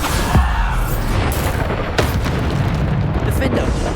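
A Bombarda spell explodes in Hogwarts Legacy, heavy booming blasts with sharp cracking transients amid constant combat rumble, loud and close, with other spell effects around.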